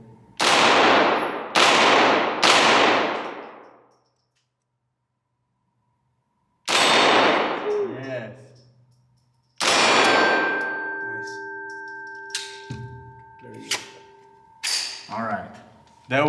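A POF Rebel .22LR pistol fires single shots that ring off a steel target with sharp metallic clangs, some in quick pairs and some spaced apart with pauses, and a voice is heard briefly.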